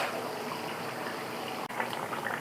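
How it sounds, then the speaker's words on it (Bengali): Water heats in a pot on the stove to go into a fish and vegetable curry broth, a faint steady bubbling hiss that continues throughout with no talk. "এই পানিটাও গরম হয়ে গেছে"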